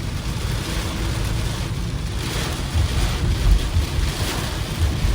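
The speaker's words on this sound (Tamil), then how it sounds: "காற்றும் சரியான காற்று மக்களே, காற்று மழை." Strong wind and rain buffet a Kia Syros car and the microphone with low rumbling gusts, a steady rushing noise, heavier bursts around the middle, no voices.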